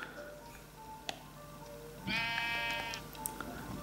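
A Minecraft sheep gives a single short, wavering bleat partway through, clear but moderate in level, over a quiet game background with faint ticks and no talk.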